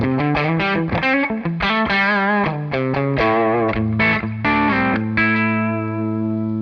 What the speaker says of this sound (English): That amount of overdrive distortion didn't change.